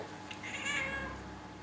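A pet cat gives one close, drawn-out meow in a home kitchen, loud over a faint background hum.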